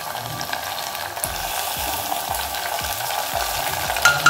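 Browned onions with tomatoes frying in a pan, a steady sizzle overlaid with repeated spoon scrapes and stirring knocks at a regular pace, close and moderately loud with no voices.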